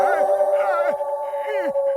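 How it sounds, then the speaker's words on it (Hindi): A cartoon mother dog gives several short, voiced, yelping barks with sliding pitch over a steady tone, sounding acted rather than from a real animal. "ये सुनो सुनो, ये उसी मम्मी डॉगी की आवाज है।"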